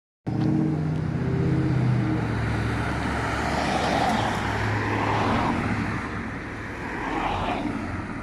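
An old Jensen classic car drives past on a town street at a classic vehicle festival in Tewkesbury, a loud close engine rumble and whoosh that swells and fades over several seconds.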